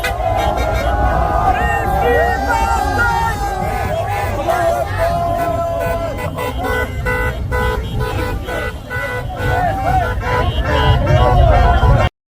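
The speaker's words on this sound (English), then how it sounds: "a truck of young men cheering in support of the Hamas terror attacks in" A truck of young men cheering after dark while waving Palestinian flags, heard as loud crowd shouting and chanting over street traffic, with car horns tooting repeatedly throughout.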